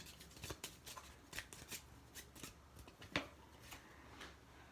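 Tarot cards are shuffled and pulled from a deck in a quiet room, giving a series of soft, quick riffling and sliding bursts close by.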